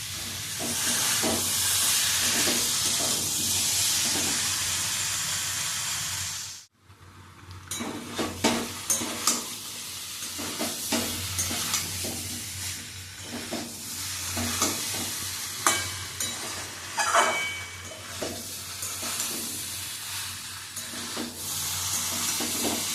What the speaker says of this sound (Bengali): তরকারিগুলোকে আমি মশলা দিয়ে ভালো করে মিশিয়ে নিচ্ছি।